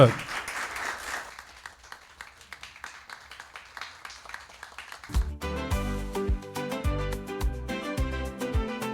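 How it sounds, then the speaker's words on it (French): Audience applause at a school competition match between two lycées, a dense wash of clapping for about five seconds before it gives way to loud music with punchy beats. "On les applaudit."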